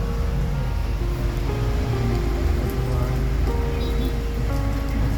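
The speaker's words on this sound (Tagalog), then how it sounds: "Sobrang lakas po ng ulan" Heavy nighttime rain, heard from inside a vehicle with wipers running, pours in a steady, dense roar, loud and continuous throughout, with a low rumbling hum underneath.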